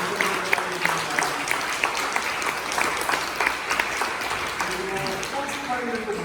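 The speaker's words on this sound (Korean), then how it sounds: "큰 박수로 우리 한번 축하하겠습니다." A church congregation applauds during a Sunday Thanksgiving service, steady scattered clapping filling the room at moderate volume, with some talk underneath.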